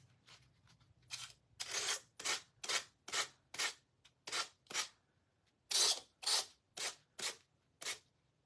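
Low-grit sandpaper rubbed over decoupage paper on a holiday tree craft, about a dozen rhythmic rasping strokes, close and clear, with short pauses between them.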